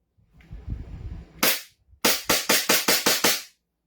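A licensed Umarex Glock replica pistol fires one sharp crack, then after a brief pause a rapid string of seven loud, evenly spaced shots, each clipped and close with quick decay, no talking.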